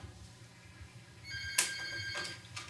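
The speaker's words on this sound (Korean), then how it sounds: "정적을 깨고 전화벨이 울렸다." A telephone rings in a quiet office during a 2006 Seoul prosecutors' office investigation, one sharp electronic ring cutting the silence, followed by fainter repeated bursts.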